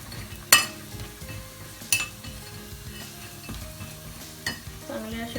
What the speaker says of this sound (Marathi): त्याचा कलर चेंज होईपर्यंत आपण ते फ्राय करून घ्यायचे